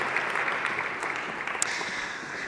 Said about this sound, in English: Another round of applause for all of our panelists here and their comments today.